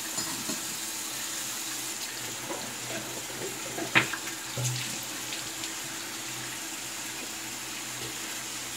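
Tap water runs quietly into a sink while a Merkur 34C safety razor blade is rinsed, a soft steady flow with a small splash or clink midway.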